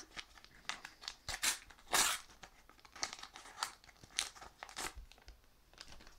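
A World Cup 2018 trading card booster pack being torn open up close: a quiet series of crisp tearing and crinkling foil sounds in short irregular bursts, with no voices.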